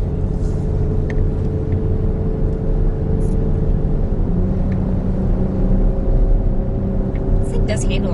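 A 2017 Dodge Durango Citadel SUV towing an ATV trailer through the Rockies, a steady loud road and engine rumble from inside the cabin with faint clicks and no letup.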